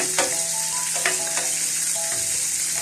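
Garlic sizzling in butter in a pan beside steak, a loud steady crackling fry up close with a few light clinks of a utensil, no voices.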